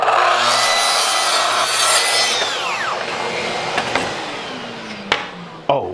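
A track saw cuts through wood veneer in one continuous buzzing, rasping pass that tapers off partway and ends with a couple of sharp clicks, close and loud.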